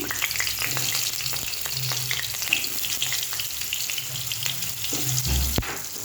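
Pointed gourd frying in a pan, giving a continuous close sizzle and spatter with occasional light stirring and a faint watery hiss. No one speaks.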